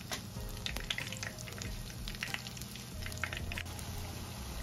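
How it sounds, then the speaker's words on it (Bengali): Green pea pakoras deep-fry in plenty of oil, with a faint, continuous bubbling sizzle dotted with small crackles and pops. "যেহেতু এটা আমি একটু ডুবোর তেলের মধ্যে ভেজে নিচ্ছি। এখন আমি এক এক করে দিয়ে দিচ্ছি।"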